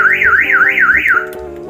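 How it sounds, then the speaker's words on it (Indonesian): A remote-controlled car alarm system wails in a rapid rising-and-falling warble for about a second, then cuts off, leaving a steady lower tone. "nah itu alarm"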